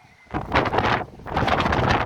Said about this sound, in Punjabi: ਹਜੇ ਹਵਾ ਚੱਲਦੀ